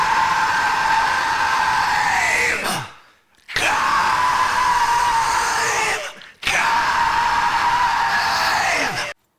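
Harsh screamed vocals from a heavy song, arriving in three long, loud bursts that each cut off abruptly into brief silence, with a dense, sustained distorted tone underneath.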